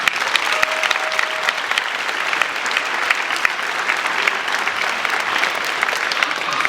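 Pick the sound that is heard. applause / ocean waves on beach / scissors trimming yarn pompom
applause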